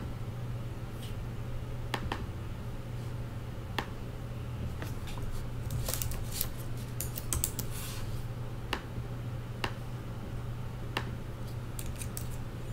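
Someone types on a computer keyboard, with scattered key clicks and short bursts of faster taps over a faint steady hum, quiet and close, with no talking.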